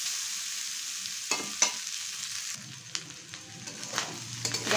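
Egg fried rice is stirred and tossed in a pan over a low flame, with scraping spatula strokes and scattered taps over a soft, steady sizzle and no talk.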